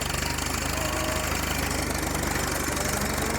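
A 1938 Farmall F-20 tractor engine runs in road gear, its steady close, loud rhythmic chugging and knocking filling the whole stretch without pause.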